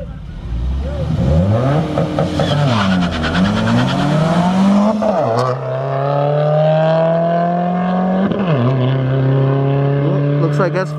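A Subaru WRX and a Ford Mustang S550 race side by side. Their engines rev hard and loud through rising and falling gear sweeps, shifting up repeatedly as they accelerate, with voices mixed in.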